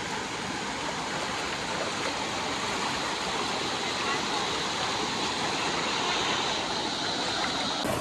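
A river rushes steadily through natural pools at a swimming hole, a continuous broadband wash of flowing water, loud and unbroken from start to finish.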